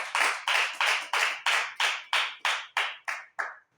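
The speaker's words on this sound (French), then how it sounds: "Applaudis pour le Seigneur" A congregation claps in unison for the Lord at a worship gathering, about eleven sharp, evenly spaced group claps in a steady beat, with the last few slightly softer and closer together.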